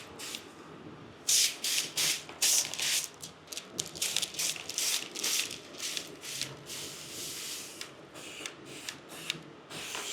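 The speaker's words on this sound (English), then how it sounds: "I'm gonna peel up this bottom corner." Windshield tint film is worked on a 2025 Tesla Model Y with bursts of sharp, close spray hissing in an uneven rhythm, mixed with soft crinkling and peeling sounds between them.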